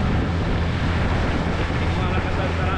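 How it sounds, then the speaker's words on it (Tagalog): A new 18-horsepower boat engine runs with a loud, constant droning rumble, blended with steady rushing wind noise and no break in the sound. "Ayun lang tayong bagong makina, ano? 18 kabalyo."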